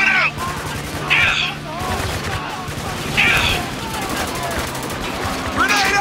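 Gunfire bursts from the video game Spec Ops The Line, with rapid volleys and several sharp shots repeating across the stretch while someone talks over the shooting throughout.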